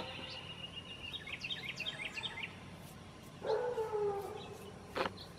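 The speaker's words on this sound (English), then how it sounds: "I hear the dog already started." Faint, far-off outdoor sound of a dog howling in one long drawn-out cry, with birds chirping earlier and a short sharp knock near the end.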